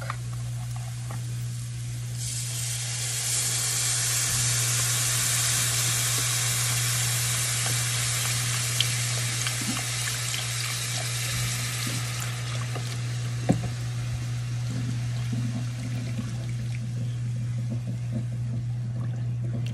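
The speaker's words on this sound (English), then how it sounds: "Now I'm going to add my milk." Milk poured into a hot pan of sausage for white gravy, a loud rushing hiss and sizzle that swells early, holds for about ten seconds, then settles to a lower bubbling over a steady hum.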